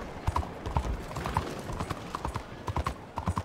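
Horse hooves trot in steady clip-clop rhythm in Red Dead Redemption 2, close and fairly even, with a brief voice urging the horse on.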